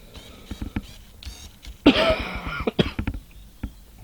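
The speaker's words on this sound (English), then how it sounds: "Excuse my cough." A single harsh cough bursts out near the microphone in a garage while a Ducati 916 motorcycle is inspected, surrounded by small clicks and handling noises.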